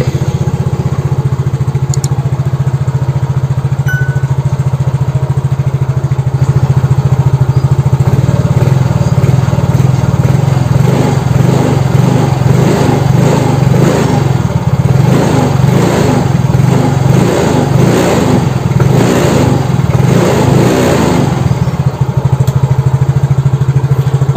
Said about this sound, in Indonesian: Sekarang kita nyalakan motornya ya.